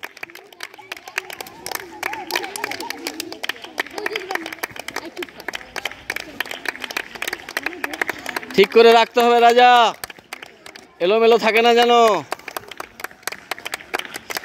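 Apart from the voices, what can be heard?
children clapping during a recreation game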